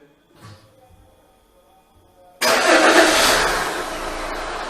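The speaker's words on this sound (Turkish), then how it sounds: "Marş emrimizi gönderelim." A 2012 Opel Insignia fitted with a remote phone-controlled start-stop system cranks and fires up after a short quiet wait, then settles into a loud, steady idle with broadband engine noise up close.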